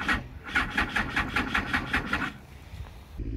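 A motorcycle engine on a weak battery fails to start. The starter cranks in a quick, regular, labored rhythm for about two seconds, then stops and leaves near silence before a low rumble returns.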